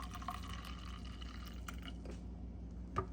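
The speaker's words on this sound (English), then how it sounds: "let's go ahead and pour it into this cup" Hot almond milk pours from an electric milk frother into a cup, a soft, faint liquid trickle and gurgle lasting a few seconds, with a small clink of the jug or cup near the end.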